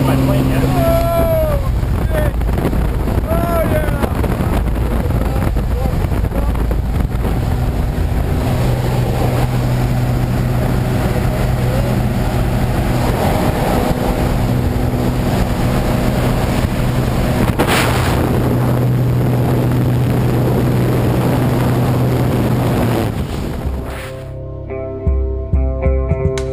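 Airplane engine drone and roaring wind before a skydive, loud and constant throughout with voices talking over it, dropping away abruptly near the end.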